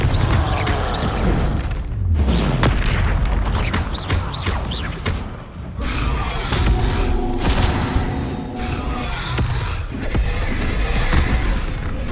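A Confringo spell goes off in Hogwarts Legacy combat, its booming blasts and crashes buried in a dense, loud wash of battle noise that runs without pause.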